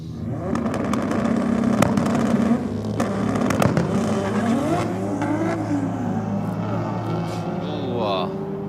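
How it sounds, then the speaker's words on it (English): Drag race between a VW and a nitrous Commodore, with loud roaring engines revving and accelerating down the strip, overlapping engine notes rising in pitch amid crowd noise and an announcer talking. "With the VW down in the Rocket lane up against the nitrous Commodore."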